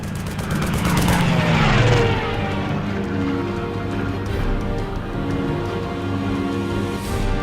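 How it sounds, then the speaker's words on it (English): A German fighter plane from the video game Lost Horizon roars overhead, a loud propeller engine drone that swells and sweeps past, then lingers as a steady rumble with no talk. "A German fighter plane?"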